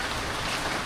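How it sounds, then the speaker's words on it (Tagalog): Heavy rain pours down steadily, a dense even hiss of drops on surfaces that fills the whole moment at close range, with no voices over it. "Ulan yan."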